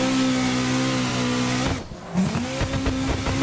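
A GTR's engine in a realistic driving game holds a steady high drone, cuts out abruptly for a moment near the middle with a brief skid, then picks back up and revs on, loud and close with no talk.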